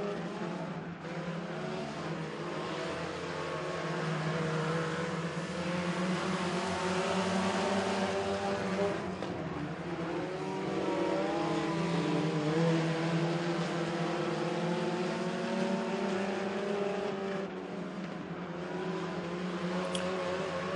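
Mini stock race cars battle three wide for the lead on the opening lap at Crossville Speedway, engines droning as a steady, continuous roar through the whole stretch with shifting pitch as the pack circles.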